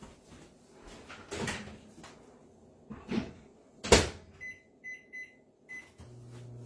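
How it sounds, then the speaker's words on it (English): A microwave door clunks shut, buttons beep several times in quick succession, then the oven starts a five-minute run with a low steady hum. "So I'm going to put this in the microwave for 5 minutes."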